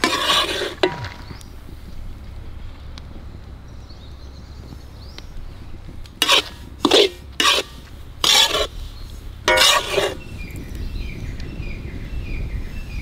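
Semolina (rava) roasted and stirred in a pan for jackfruit kesari: a quiet dry scraping background broken by a handful of sharp metallic spoon clinks against the pan, several in quick succession.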